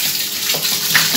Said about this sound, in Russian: И теперь все это дело я еще заливаю водичкой.